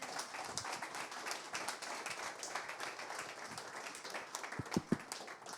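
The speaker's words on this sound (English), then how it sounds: "round of applause for Naveen." Audience applause at a startup talk after a guest speaker, dense and fairly faint, a steady patter of many hands with a few sharper claps near the end.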